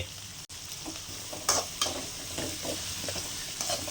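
Onions, chana dal, mustard seeds and green chillies sauté in a pan for semiya upma, giving a steady close sizzle with a few louder scraping stirs of a spoon, and no talking.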